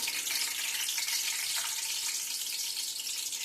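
Whole small onions drop into hot oil for a Kongunadu-style mutton dum biryani, and a dense, even sizzle fills the moment, close and loud, with no talking.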